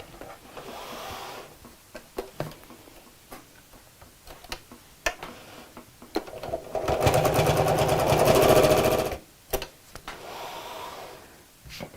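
A domestic sewing machine runs in one sustained burst of about two seconds, stitching boxes through layers of recycled denim and fabric. Scattered ticks and soft handling noises come before and after it, with no talk.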